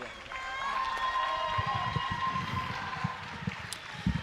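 Spectators at the 2024 Dubai Fitness Championship cheer and clap for athlete Linda Kieschman, a continuous wash of applause and shouts from a large crowd with scattered sharper claps standing out.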